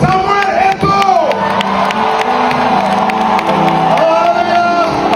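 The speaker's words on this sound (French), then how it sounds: "Acclamez pour Samuel Eto'o." A crowd cheers and shouts for footballer Samuel Eto'o at a spiritual retreat in Benin, a loud sustained roar of voices and whoops, with a voice calling out above the noise.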